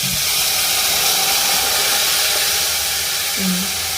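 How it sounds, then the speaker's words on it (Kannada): Masala spices bubbling in hot oil for a mutton curry, a loud continuous hissing sizzle held close and unbroken throughout. "ಈಗ ಮಸಾಲೆ ಎಲ್ಲ ಎಣ್ಣೆ ಒಳಗೆ ಕುದಿಯಲ್ರಿ"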